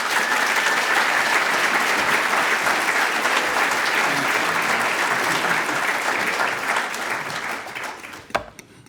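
A large audience claps steadily to welcome Andy Stanley on stage, a dense, even wash of applause that fades toward the end.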